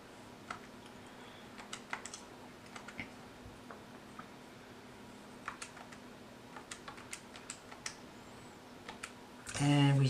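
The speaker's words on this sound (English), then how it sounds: "So go ahead and type some things in your calculator." Calculator buttons are tapped in quick, faint clicks, scattered in short irregular bursts against a quiet room, with a louder noise cutting in at the very end.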